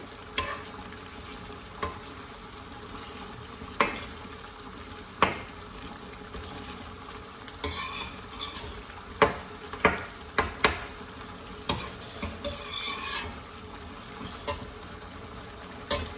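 Charsi karahi fries in a pan with a steady soft sizzle while a utensil scrapes and stirs in irregular clacks, fairly close, with no voices.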